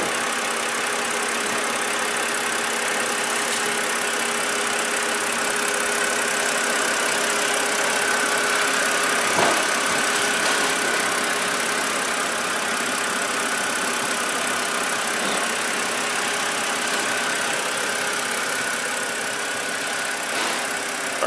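A BMW E90 engine idles steadily at moderate volume, a constant low hum with faint ticking, no one speaking.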